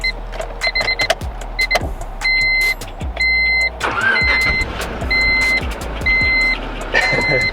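A Honda Civic's engine cranks and turns over with no exhaust fitted, accompanied by repeated electronic warning chimes beeping in a steady on-off pattern, with a bit of clicking nearby.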